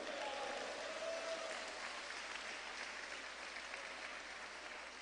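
Congregation in a church applauding, a steady broad wash of clapping that fills the space, fairly faint and continuous, with a murmur of voices underneath.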